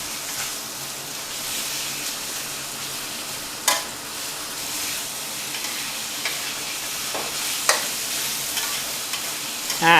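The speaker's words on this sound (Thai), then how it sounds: "เสร็จแล้วก็ผัดสักครู่หนึ่งครับให้เนื้อหมูเริ่มสุกก่อนครับ" Marinated pork is stir-fried over high heat in a pan for Thai ginger pork, a steady loud sizzle and hiss running throughout with occasional sharp scrapes and clinks of the spatula, no voices.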